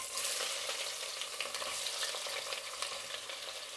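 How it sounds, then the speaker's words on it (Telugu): Onions frying in ghee with cinnamon and cloves, a steady close hiss and crackle of sizzling oil holding constant for the whole stretch, with light stirring, no voices. "ఎర్రగడ్డ కొంచెం బాగా వేగాలి."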